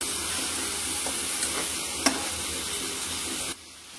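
Green chilies go into a frying spice paste, giving a steady close sizzle with a couple of faint clinks before the frying noise drops away abruptly near the end.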